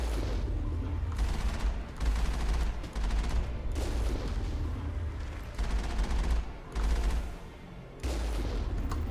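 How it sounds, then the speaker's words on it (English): A tank cannon fires in the Mass Effect video game, in a co-op session, as a series of sharp, booming bursts in quick succession with brief lulls between volleys, and nobody speaking. "But for now, cannon sniping works pretty well."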